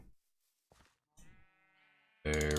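Sheep bleating in Minecraft with the TekTopia modpack: a few short, quiet bleats spaced apart, then a much louder, sustained bleat at the end.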